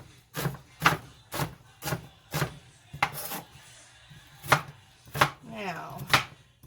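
A knife chops onions on a board in a steady run of about a dozen crisp thuds, close and fairly quiet, with a brief murmur of speech partway through.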